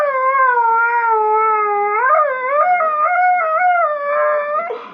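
A dog named Hootie howls in long, wavering tones close by, with pitch rising and falling in a sustained sing-song cry that breaks into short yips near the end.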